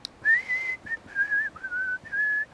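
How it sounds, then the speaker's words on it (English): Lip whistling, a bright pure tone sounded in five short phrases with small pitch shifts, close and clear over a quiet background with no talking. "If I normally whistle,"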